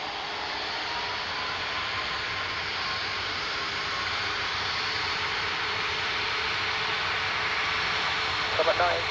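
An Aer Lingus airliner taking off at Dublin Airport gives a steady, loud broadband roar that holds throughout, with faint radio chatter and voices beneath it.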